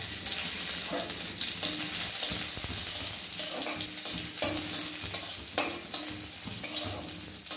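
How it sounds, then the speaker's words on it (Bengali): Cashews and raisins fry in a pan with a close, continuous sizzle, broken by repeated scraping stir strokes and small clatters; no voice is heard. "এবারে প্রথমে আমি হালকা যে কাজু আর কিশমিশটাকে একটু ভেজে নেব"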